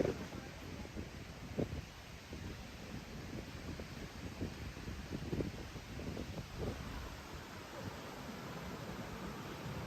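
A steady broad rush of wind blows across the microphone on Kamala Beach in Phuket, with gusty low rumbles rising and falling throughout and no clear voices.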